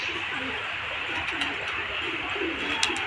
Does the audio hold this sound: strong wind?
no